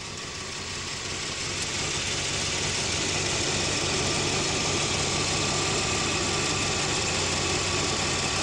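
A 4x4 engine runs steadily while the vehicle winches itself out of deep mud, a continuous close droning hum with broadband mechanical noise and no speech.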